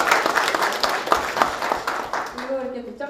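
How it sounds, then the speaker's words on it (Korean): Meeting-room audience applause, dense clapping from a gathered group that fades out near the end as a voice begins speaking. "큰 박수 부탁드리겠습니다."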